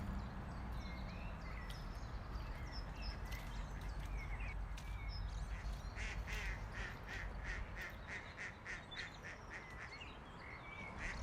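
Mallard ducks quack in a repeated series of nasal calls, fairly distant and soft, over a steady wash of outdoor water and wind noise near a fishing heron.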